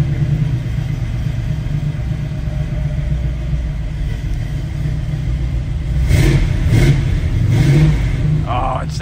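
A 1969 Chevrolet Camaro with headers and Holley Sniper EFI idles with a deep, throbbing rumble after a cold start, then revs sharply several times, loud and close, with someone speaking over it.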